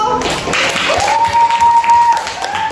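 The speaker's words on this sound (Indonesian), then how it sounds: "Tepuk tangan dulu." Classroom students break into applause after a group reading, a steady wash of clapping lasting a few seconds with a sustained tone and faint voices mixed in.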